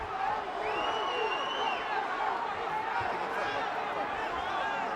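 A boxing arena crowd cheers for Morales in a steady, dense roar of cheering and chatter throughout, with a voice talking over it.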